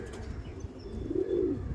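A pigeon cooing close by, a brief low murmuring coo that swells toward the end over faint outdoor background noise.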